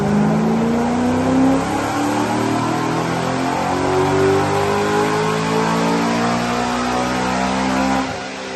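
A BMW E92 M3 engine revs loudly and continuously close to the microphone, a dense, rising and falling roar that holds for about eight seconds before easing off, with no talk.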